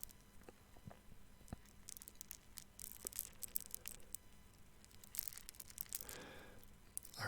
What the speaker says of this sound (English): the small container of them make a lovely little sounds, little subtle sounds like this.